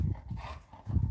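A dog outdoors at an open carry ride gives a pair of short, muffled low bursts that sound like barks or huffs, near and moderately loud, with no one talking.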